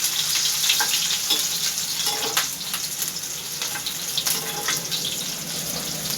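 Garlic sautés in a pan with a dense, continuous sizzle and crackle up close, broken by a few light spatula taps and scrapes, with no voices.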